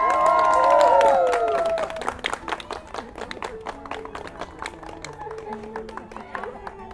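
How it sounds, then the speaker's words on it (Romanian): Wedding guests break into applause and cheering, a dense burst of clapping that thins into scattered individual claps while a few voices carry over the top. "Aplauze!"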